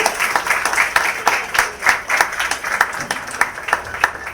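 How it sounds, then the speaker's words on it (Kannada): Applause from an audience at a Women's Day celebration, a moderate crowd clapping with distinct individual claps standing out in an uneven, lively rhythm, close and fairly loud for a few seconds. "ಜೋರಾದ ಚಪ್ಪಾಳೆ ಬರಬೇಕು"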